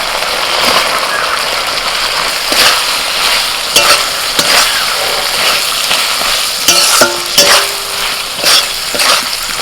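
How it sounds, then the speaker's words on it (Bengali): Shrimp and fried potato going into a cooked spice paste of cumin, tomato, salt and turmeric, a loud continuous sizzle with repeated scraping and knocking of a spatula stirring the pan, no speech. "মশলা কষানো হয়ে গেছে, চিংড়ি মাছটা আলু ভাজাটা দিয়ে দিচ্ছি।"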